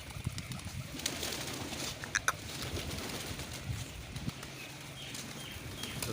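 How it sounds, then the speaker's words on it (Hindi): Village pigeons, some with coloured feathers, flap their wings in quick bursts amid soft cooing, over a faint outdoor background with a few sharp clicks and no talk. "उड़ाने वाले हैं ये कबूतर को"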